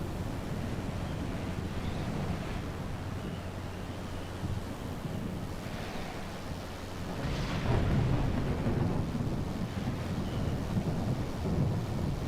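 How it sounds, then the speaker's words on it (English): Thunder rumbles through a stormy video game scene with wind and rushing noise, swelling louder in the second half, with no voices over it. "Gotta have that lightning."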